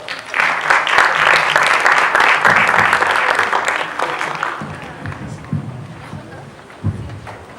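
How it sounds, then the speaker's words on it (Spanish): Audience at an Ibero-American neurorehabilitation congress gives a loud round of applause welcoming speakers, dense clapping that thins out midway into scattered claps and low voices. "Recibámoslos con un fuerte aplauso"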